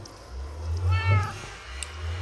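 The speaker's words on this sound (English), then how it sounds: "I probably have a meowing kitty right beside me over here" A pet cat lets out a drawn-out, wavering meow close by over a low background hum, followed by a brief faint chirp.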